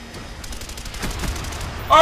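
Rapid gunfire in Black Ops, the video game, comes as a quick, dense burst of shots, fairly loud, followed by a sharp noise at the end.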